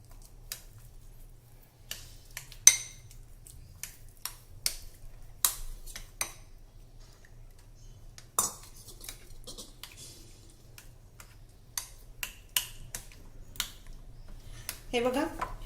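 Amaranth being stirred into jaggery water in a bowl, heard as faint, scattered spoon clinks and taps against the bowl, with long quiet gaps and a low steady hum underneath.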